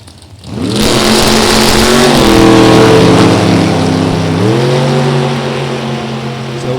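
Drag race cars, including a Mustang Roadster, roar down the Beech Bend strip, a loud, close, sustained engine howl that rises in pitch as they accelerate, then shifts down and climbs again.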